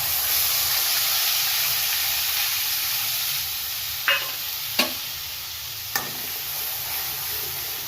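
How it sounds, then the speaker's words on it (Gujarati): Onion gravy poured into a pot of black chana curry on a medium gas flame, a loud continuous hissing sizzle with three sharp clanks of a utensil near the end, no voices. "આપણે જે 2 ડુંગળી કરી છે એની ગ્રેવી નાખી દઈએ"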